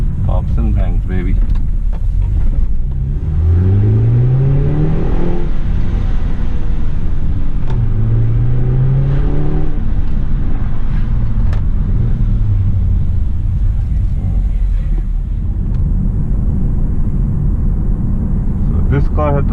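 A BMW F30 320i LCI petrol engine with ZF 8HP gearbox, heard from inside while driving after a spark plug change, steady low rumble with rising revs through several gear pulls, loud and close under occasional talk.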